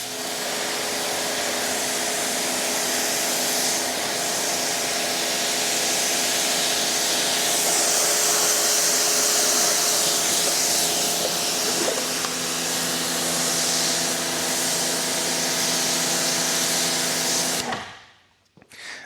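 A water spray rinses a dirty car floor mat with a steady, loud hiss for about eighteen seconds, then cuts off abruptly.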